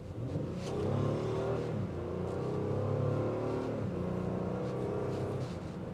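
A 2025 Honda Pilot EX-L V6 SUV accelerates hard from inside the cabin, its engine note climbing through rising revs, dipping briefly at a shift, then pulling up again in a steady loud drone.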